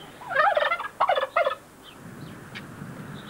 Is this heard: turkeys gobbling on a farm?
yes